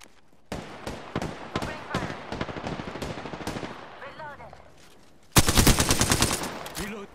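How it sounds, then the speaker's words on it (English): Apex Legends video game gunfire, a rapid series of close automatic shots followed by a brief pause, then a louder sustained burst of fire near the end. "Opening fire."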